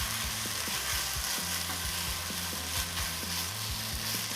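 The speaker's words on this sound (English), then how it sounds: "So now I'm going to stir this and toast this rice" Rice is stirred and toasted in a frying pan while cooking Nigerian-style fried rice. A loud, close sizzle runs throughout, with scraping stir strokes repeating underneath and no voices.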